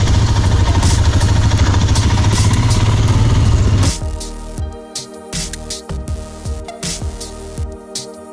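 A Royal Enfield Himalayan motorcycle engine runs loud and close for about four seconds, then cuts off. Intermittent clattering and knocks follow.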